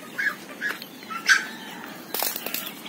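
Farm ducks quack while being fed in a rural yard, several short nasal calls spread across a few seconds, fairly close, with some soft rustling toward the end.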